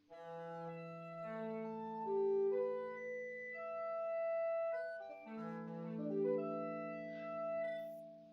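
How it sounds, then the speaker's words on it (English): Bowed strings on a physically modeled guitar inside a modular synthesizer, sounding as smooth, sustained overlapping tones that swell and glide between pitches over several seconds, with no voices. "We can, of course, also bow the strings."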